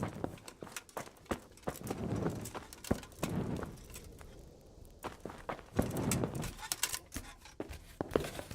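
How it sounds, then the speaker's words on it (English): Horse hooves clip-clop in the Kingdom Come: Deliverance video game, a steady series of close, distinct hoof strikes with a brief pause midway before the rhythm resumes. "Hitch up the white horse."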